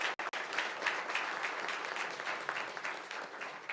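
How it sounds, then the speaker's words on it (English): Applause at a Veterans in Tech 2022 event as a speaker is welcomed to the stage: steady, dense clapping from a sizable audience, evenly sustained for several seconds, with no talk over it. "round of applause"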